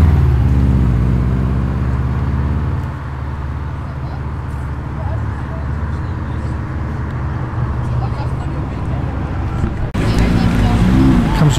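A BMW pulls away from a large car meet in Tempe as a loud, steady engine roar holds close by throughout. Crowd chatter and voices run underneath, and a fresh surge of engine noise comes near the end.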